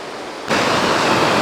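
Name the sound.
waterfall rushing at Gros Morne National Park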